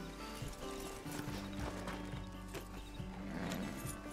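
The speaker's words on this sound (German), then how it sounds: "Stellen Sie bitte einmal Ihre Pferde ab." Horses' hooves clip-clop steadily on the ground in a Wild West setting as the animals are brought to a stop, with faint movement sounds and a low hum underneath.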